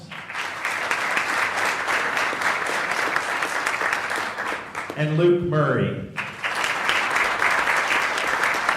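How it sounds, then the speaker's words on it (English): An audience applauds a team, with continuous clapping that runs under a man announcing names, briefly dips while he speaks, then swells back to full applause. "once again, let's have a round of applause for the whole team."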